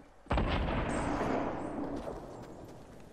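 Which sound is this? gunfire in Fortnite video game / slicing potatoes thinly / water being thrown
gunfire in Fortnite video game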